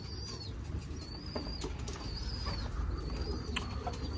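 Pigeons in a coop, with bursts of wing flapping and faint cooing over a steady background hum, moderately quiet and close.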